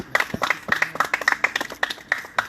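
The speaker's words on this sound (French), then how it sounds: "Acclamons le Père." A church congregation applauds during a service, close, uneven handclaps from a small group in a quick, scattered rhythm, with no talking.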